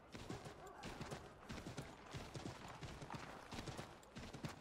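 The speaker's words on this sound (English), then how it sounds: "Yeah, pretty much sounds like a horse in the wind." Horse hooves clip-clop in Assassin's Creed 3 while riding through Boston, a steady rapid rhythm of soft thuds mixed with wind and game ambience, faint overall.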